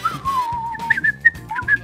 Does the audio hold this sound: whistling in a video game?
yes